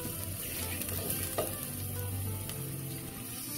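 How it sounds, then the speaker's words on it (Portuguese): Spring onion fries in pequi oil with a steady close sizzle and occasional stirring scrapes, with no voices. "Deixando a cebolinha dar uma curtida aqui no óleo de pequi"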